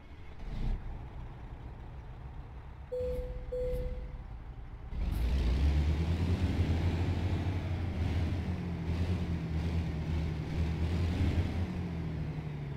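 A Kenworth W900 truck in American Truck Simulator fires up: after a short beep and an air hiss, the engine catches with a loud burst and settles into a deep, steady idle rumble that runs for several seconds.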